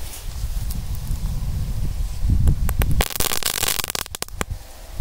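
A homemade triangle-shaped firecracker goes off outdoors: rustling and low rumble first, then a sharp cluster of loud cracks and pops, with a few scattered snaps trailing after.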